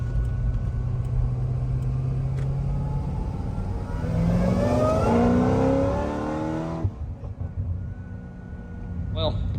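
A Corvette C6 ZR1 engine fitted with a BTR stage 2 cam idles with a low, choppy rumble, then revs up in a rising roar and drops back to a lumpy idle.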